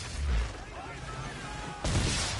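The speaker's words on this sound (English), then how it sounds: "Why is he shooting at us?" In Assassin's Creed III, an enemy ship fires on the player's vessel at sea: deep cannon booms, one early and another near the end, over a rumbling background while someone speaks.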